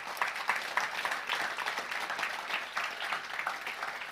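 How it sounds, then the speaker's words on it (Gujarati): An audience at a religious discourse claps together, a sustained wash of many hands at moderate distance, steady with slight pulsing and no voices over it. "તાળીથી"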